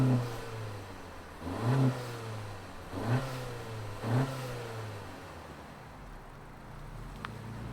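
A 2023 Honda Civic Sport Touring hatchback engine revs in three repeated swells, each rising and falling, heard fairly faint and steady with no talking over it.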